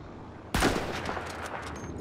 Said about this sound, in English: I just heard the gunshot.